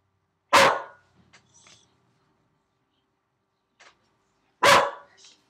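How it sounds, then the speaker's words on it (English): A pet dog indoors barks twice, loud and close, with a long pause between the barks and a few faint yips and shuffles in between. "Sorry guys, my dog's going nuts."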